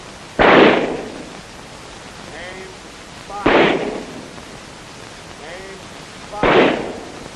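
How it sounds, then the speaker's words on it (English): Military honor guard firing party shooting rifle volleys at a ceremony: three loud, sharp synchronized cracks about three seconds apart, each with a ringing echo tail, with faint chirps in the quiet gaps between them. "Firing party, fire 3 volleys."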